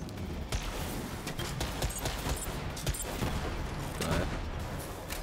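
Rapid gunfire from the video game Borderlands 3 fills the scene with loud, dense bursts of overlapping shots and impacts that continue steadily throughout.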